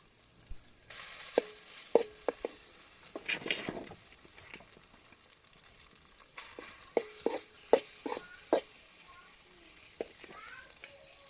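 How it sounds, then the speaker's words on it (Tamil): A pot of egg rice being stirred with garam masala over an outdoor village fire, cooked by children: scraping stirs and a soft sizzle come in short bursts, while children chatter nearby. "கரம் மசாலா கிண்டி விட்டுக்கலாம்"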